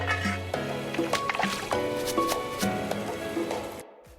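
Strawberries being lightly rinsed in water, close splashing and sloshing with soft squishy handling for a few seconds before it stops abruptly.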